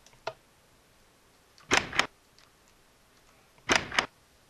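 Two quick wooden door clunks in Minecraft, each a pair of sharp knocks about two seconds apart, loud and close with a faint tick before them and no talking.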